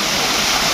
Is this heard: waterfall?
yes